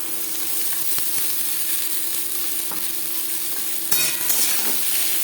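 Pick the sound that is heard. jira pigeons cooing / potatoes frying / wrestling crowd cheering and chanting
potatoes frying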